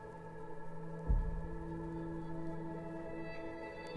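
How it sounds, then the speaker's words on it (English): A sustained synth pad with a long, seemingly endless reverb tail plays from a vinyl record, with steady layered tones, a soft low thump near the start, and no voices. "It's like an infinite reverb on there."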